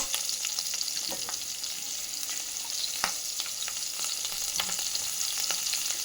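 Fenugreek leaves fry in a pan for a homemade Indian pickle, giving a steady, close sizzle and crackle with occasional light stirring taps.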